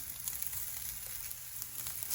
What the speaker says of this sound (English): You guys heard that sizzling sound?